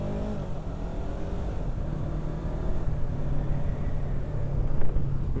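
A Yamaha R3 motorcycle engine, suspected of a fault and making an odd noise, runs with a steady low drone that swells slightly toward the end. It is close and continuous, with no talking.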